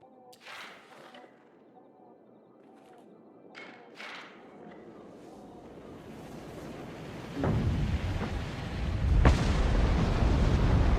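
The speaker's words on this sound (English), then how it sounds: "I just flipped off the explosion." A deep explosion in the video game Rue Valley builds from low rumbling into heavy booming thuds, growing louder toward the end with scattered sharp bursts over sustained low roar.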